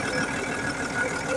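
A backhoe excavator engine runs after an overhaul and repair for hard starting and low power, giving a loud steady rumble close by with slight swells in level.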